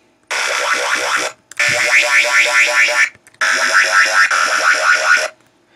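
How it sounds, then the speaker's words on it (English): Loud, heavy synthesized bass wobbling in rapid pulses, gritty and distorted, played in three long bursts separated by brief silences. "Nice heavy bass with some background distortion"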